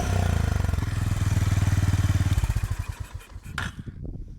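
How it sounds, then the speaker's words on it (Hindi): A Honda CB350RS motorcycle's stock exhaust gives a loud, steady thumping roar up close, then the throttle is cut and the beat slows and fades into uneven chuffs as the engine winds down. "इसका एग्जॉस्ट ज़बरदस्त रोर करता है"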